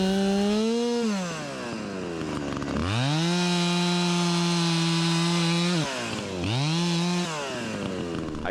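A Husqvarna 372XP chainsaw engine runs loud and close, revving up and dropping back twice in rising and falling sweeps, then holding a steady high idle with a sharp buzzing tone.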